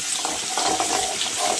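Vegetables stir-fried in a thin-bottomed kadhai on a high gas flame while making momo chutney, a steady close sizzle with scraping stir strokes throughout.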